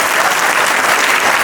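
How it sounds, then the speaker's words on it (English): Students break into loud, sustained applause at a school farewell party, a dense wash of clapping that stays steady throughout without any talk over it. "I request all the students give a big round of applause to our correspondent madam"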